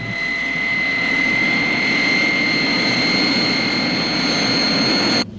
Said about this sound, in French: Tous les moteurs tournent, mon père. Nous nous dirigeons vers la piste pour décoller.